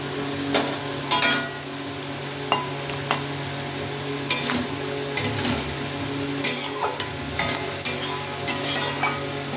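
Potatoes are stirred around a pan while frying for a thin katla fish curry with potato and pointed gourd, giving a continuous soft sizzle broken by repeated scraping and knocking of the utensil against the pan.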